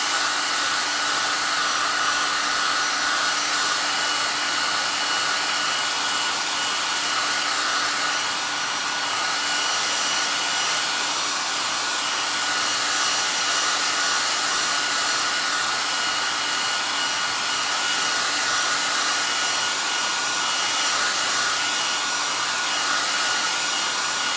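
Hair dryer blowing continuously to dry paint on a small painted wooden heart, a loud, steady whooshing hum with a faint tonal whine, unbroken throughout with no talk.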